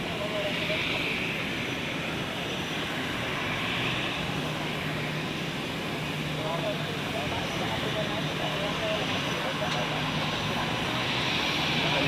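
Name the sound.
Edelweiss A320 taxiing at Zurich Airport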